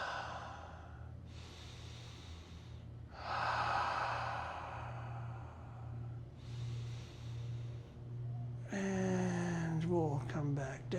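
Slow, controlled breaths during a cyclist's off-season recovery exercise: three long, airy exhalations rise and fade over a steady low hum, each several seconds apart, and a brief voiced sound enters near the end.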